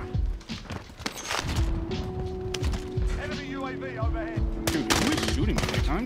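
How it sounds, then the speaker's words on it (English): Gunfire rattles through a Call of Duty: Warzone match, with repeated close shots and rapid automatic bursts layered together, while players talk over the shooting. "I'm just getting shot."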